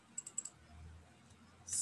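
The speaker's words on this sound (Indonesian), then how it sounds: "ini saya tekan keyboard tombol C" A computer keyboard key being pressed, giving a few quick light clicks close by near the start, with a brighter click at the end and no talking.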